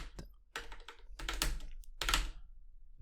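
Loud, sharp clicking bursts from the buttons of an Atachon Volant fight stick pressed on a desk during play, rapid clusters of presses with short gaps between them.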